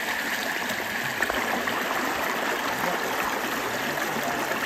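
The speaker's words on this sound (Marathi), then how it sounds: "पूर्णपणे जंगलाच्या मधोमध असलेली प्रॉपर्टी आहे आणि ही वाहणारी नदी आहे" A river flowing through the middle of a forest, a steady broadband rush of running water that stays even and close throughout, with no voices.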